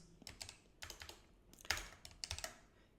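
Fingers type on a computer keyboard in short clustered bursts, with crisp, close keystroke clicks and one louder key press, quiet and with no talking.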